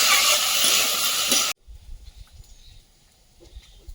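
Steady frying sizzle from a pan for a second and a half, then it cuts off abruptly, leaving quiet low rumbling and faint clatter.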